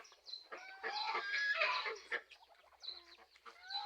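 Ducks being fed papaya, giving a busy run of close quacking and clucking calls, bursts rising and falling with short pauses between.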